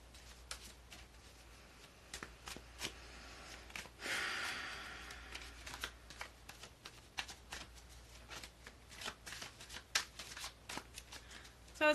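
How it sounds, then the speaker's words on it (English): Tarot cards are shuffled by hand close up, quiet repeated riffling snaps and soft flutters in bursts, with a longer smooth shuffle in the middle and occasional faint breathing. "So I'm just shuffling my cards and getting myself tuned in here."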